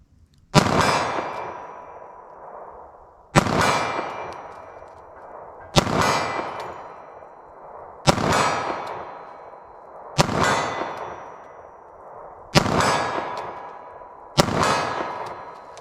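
Seven 9mm hollow point shots fired from 40 yards at a short-barrel pistol range, each a sharp loud crack with a ringing clang, spaced about two seconds apart with no talking.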